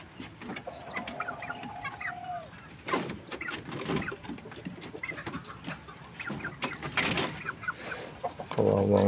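Backyard chickens cluck and squawk intermittently at close to moderate distance, with scattered rustling and a brief tonal sound near the end.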